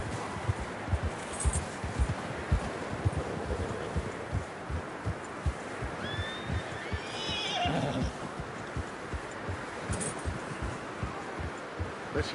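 A horse in the video game Red Dead Redemption 2 whinnies loudly partway through, over steady clip-clopping hoofbeats and faint rustling ambience.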